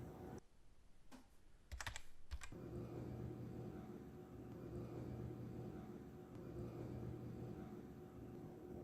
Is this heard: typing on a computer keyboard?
yes